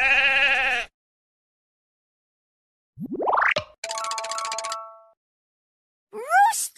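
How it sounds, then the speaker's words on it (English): A sheep bleats from a Fisher-Price Puppy baby learning toy, one loud wavering bleat up close, followed by a rising slide whistle, a bright chiming ding, and a final short vocal sound, separated by silence. "Sheep."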